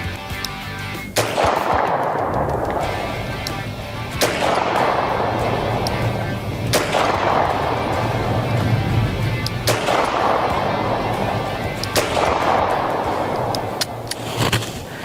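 Shots from a 1960 Smith & Wesson Model 10 .38 snub-nosed revolver, five loud sharp reports spaced a few seconds apart outdoors, each with a ringing decay, over steady background noise.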